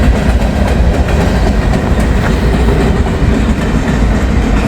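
A long freight train with boxcars rolls past at close range, a loud, continuous rumble with clattering wheels and rhythmic clicks on the rails, and no voices.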